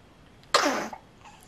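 A baby gives one short, soft sneeze, a single quick burst in an otherwise quiet room.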